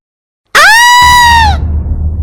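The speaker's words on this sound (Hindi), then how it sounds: "समीरा उसे देखकर चीख देती है।" A cartoon woman lets out a loud, piercing scream of fright, a single sustained high shriek lasting about a second that cuts off abruptly, followed by low background rumble.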